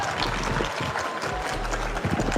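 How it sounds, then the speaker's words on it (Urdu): Applause from an audience at a Sindh Governor's address to an IT exam program, a dense continuous patter of many hands clapping fairly loud throughout. "میں نے اپنی تالیاں بجائی"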